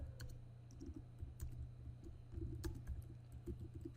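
Typing a file name on a computer keyboard, with soft irregular key clicks in short bursts close by over a steady low hum.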